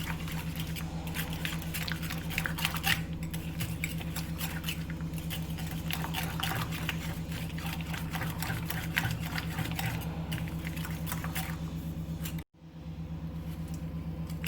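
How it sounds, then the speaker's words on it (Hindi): Electric hand beater whipping cold cream in a bowl for a pineapple dessert, a continuous close buzzing whir with rapid rattling, cutting out briefly near the end before resuming. "अब हम इसको 1 से 2 मिनट के लिए अच्छी तरह बीट करेंगे"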